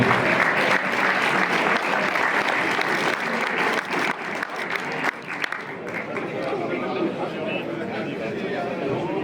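Loud, dense applause rolls through the audience at a sports award ceremony, a continuous wash of many hands clapping with crowd chatter and voices mixed in, dipping briefly midway before carrying on.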